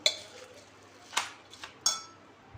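Utensil clinking and scraping in a bowl while papad chaat is mixed with lemon juice, three distinct close metallic clinks over a quiet room hum.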